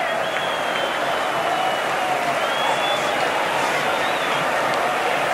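Football crowd at Maracanã during a 1979 Flamengo vs América match, a dense, loud, sustained roar of shouting fans with no break, close and continuous, with a voice faintly under it.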